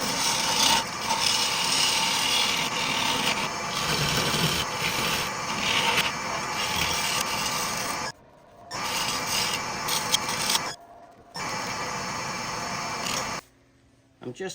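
Rough, continuous rasping scrape of a tool against oak firewood spinning on a wood lathe, loud and close, broken by short silent pauses as cutting stops and restarts.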